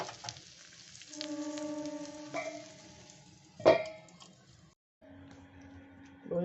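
Brinjal slices coated in egg fry softly in a pan, giving a faint sizzle with a few louder stirring clicks and a brief sharp clatter partway through, close by and without speech.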